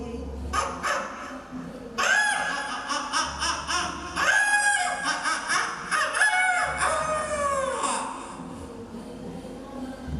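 A mimicry artist mimics a rooster during a comedy performance, producing drawn-out crowing calls that rise and fall, repeated several times in close succession.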